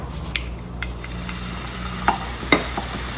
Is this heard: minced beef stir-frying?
yes